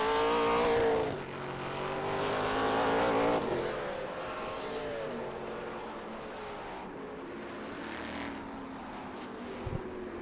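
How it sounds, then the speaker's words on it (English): Race cars braking into turn 1 at Road Atlanta during the SpeedTour event, engines roaring loudly up close before settling into a steady, slightly more distant drone of passing cars with no talk. "he's hitting his brake zone, so this might be his flyer, and Barry Bowes right behind him."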